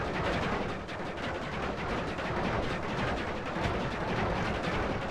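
Rapid, dense crackling bursts of explosions in the pixel-physics game Noita, continuous and noisy with no pauses, fairly quiet overall and no talking.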